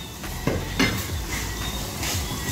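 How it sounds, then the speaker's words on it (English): Diced onions frying in oil in a home kitchen, a soft steady sizzle with a couple of clinks of a utensil against the pan. "So here we're frying some onions that he's diced up in some oil"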